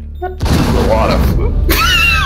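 A claymore blows up in the Rainbow Six Siege video game with a loud, sudden boom that rolls into a sustained rumbling blast, and voices sound faintly around it.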